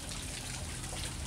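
A waterfall in Tirana, Albania gives a steady, broadband rush of falling water, an even hiss with no breaks, moderately quiet and heard alone without talk.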